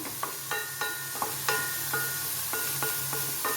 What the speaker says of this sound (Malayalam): ഇതൊന്ന് ഒരല്പം ഉപ്പിട്ട് വഴറ്റിയെടുക്കാം.